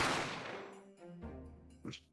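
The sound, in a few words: gunshot from The Great Ace Attorney video game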